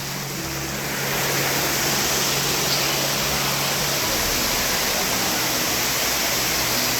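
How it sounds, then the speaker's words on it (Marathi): Water rushing steadily and loudly at a monsoon waterfall stream, a continuous broad hiss of flowing water close by, with no pauses. "असं झुळझुळ पाणी वाहत आहे"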